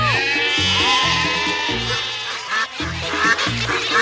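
A toy-like device set to a sheep-lure mode gives out a loud, continuous run of synthetic bleating and quacking animal calls over a rhythmic electronic backing, with no talking.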